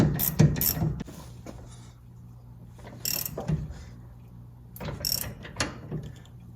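On the brakes of a 1964 Plymouth Fury, a ratchet with a short socket drives a nut home in three close bursts of fast clicking pawl strokes, with quieter gaps between them.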